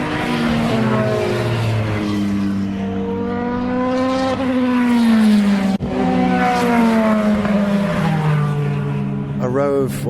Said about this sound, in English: A row of 4 or 5 LMP2 cars.